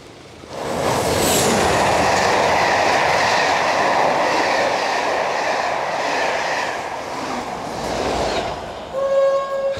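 A train roars past close by on the East Coast Main Line, a loud sustained rumble with rattling wheels that fades, followed by a brief horn-like tone at the end.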